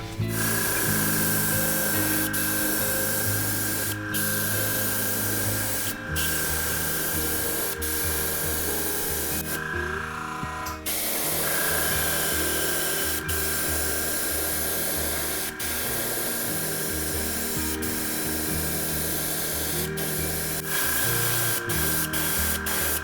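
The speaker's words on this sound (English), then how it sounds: "make sure that you don't spray your paint on too quickly, or else it'll kind of blot out the sides" Green paint hisses steadily from a sprayer onto a scrap wood crankbait lure, one close and nearly unbroken spray with a few short pauses and no talking.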